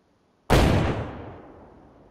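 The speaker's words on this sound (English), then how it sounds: "Shoot one more time with the shotgun." A single loud shotgun blast in a PvP video game cracks out after a moment of silence, then its booming echo decays over about a second and a half.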